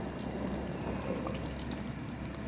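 Flour paste being poured into a simmering pot of beef nihari, a steady close liquid pouring and bubbling sound that continues evenly throughout without talk.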